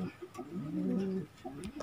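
Pigeons give a soft, low throaty coo close by, one drawn-out rolling call in the middle with quieter cooing around it, set in a household pigeon loft.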